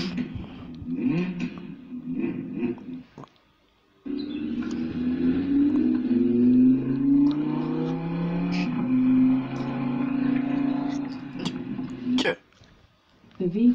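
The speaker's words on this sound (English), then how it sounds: "The V10 sounds great." An Audi R8 V10 engine revs and roars through a smart speaker, mid-distance, with a long sustained rev after a short pause; a voice talks over the start.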